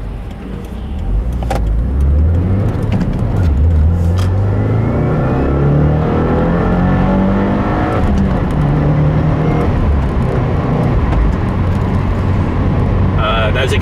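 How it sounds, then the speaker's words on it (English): A 2015 Subaru WRX engine revs hard while accelerating in third gear, a loud, steady rising drone heard from inside the car that climbs in pitch, with speech briefly over it. "I always enjoy getting on my car. It's always fun to feel the power and hear that sound. It's a third gear."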